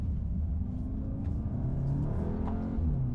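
A 2024 Audi S3 turbo engine drones loudly and continuously as it accelerates, its low growl steady and close with no talking.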